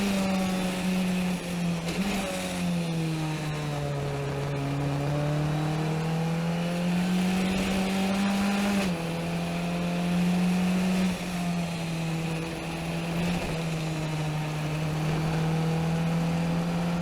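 Race car engine droning steadily at VIR as it is nursed around the track toward the checkered flag, a sustained loud in-car hum with pitch rising and dipping through gear changes, no talk.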